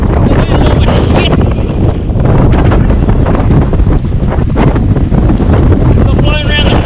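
Strong wind buffets the microphone while kayaking on open water, a loud, constant roaring rumble with gusty surges and water sounds beneath, close and overwhelming throughout.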